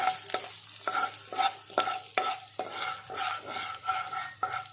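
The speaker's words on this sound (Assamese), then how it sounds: "এতিয়া মই তেলতে অকণমান হালধি আৰু কাশ্মীৰী ৰেড চিলিকণ দি দিম।" Turmeric and Kashmiri red chili are stirred in hot oil in a pan for a mustard fish curry, with a close, loud sizzle and a spoon scraping in a quick, regular rhythm throughout.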